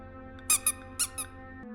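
A rubber duck squeaks in the horror video game Nightmare Clap Clap, four short bright squeaks in two pairs, close and clear over a quiet humming game background.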